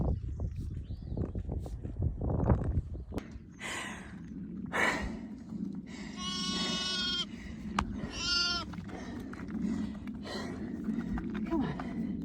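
Sheep bleat on a farm during lambing season, with several drawn-out cries close by and a ewe's heavy breathing and rustling, while a person speaks quietly in between.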